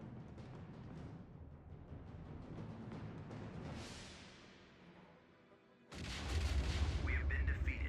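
Space battle explosions in the Star Wars game Thrawn's Revenge, rumbling booms and blasts that fade into a low swell before a sudden loud, dense burst of explosions.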